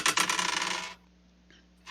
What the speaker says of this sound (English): Does somebody want to roll some dice so it sounds like I'm rolling a random encounter?